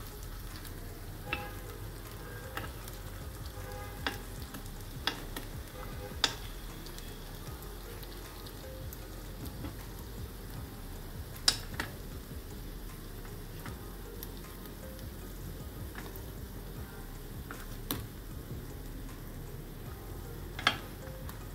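Pea kachoris roast in a covered appe pan with a soft, steady sizzle, broken by occasional sharp clicks and taps as they are flipped and stirred; no one speaks.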